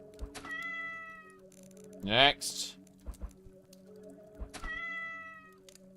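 Cats yowling as they take damage in the Lovecraft dungeon crawler game Cyclopean, with a loud rising caterwaul between thuds and two shorter wavering meows over a steady drone, while someone speaks briefly.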